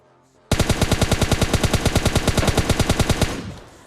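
Sustained automatic gunfire in the mobile shooter game PUBG Mobile Lite, a loud steady spray of roughly thirty rapid evenly spaced shots lasting about three seconds, then a short fading tail.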